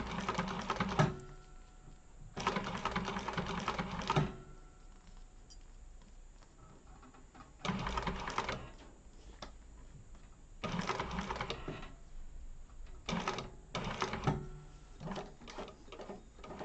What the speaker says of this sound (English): So you'll see me do a lot of hand cranking here because I always hand crank on my curves.